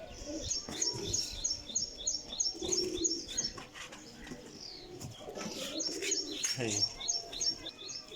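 Champion pigeons cooing in a loft, repeated low coos mixed with rapid high chirps close by, with faint talk in the background.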